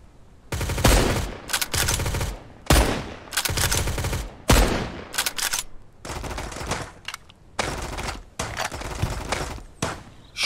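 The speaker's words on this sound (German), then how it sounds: "Bloß wüsste, von wo die jetzt schießen" Loud, repeated bursts of automatic gunfire from the PC survival game Mist Survival, close and harsh, arriving in several separate volleys with short pauses between them.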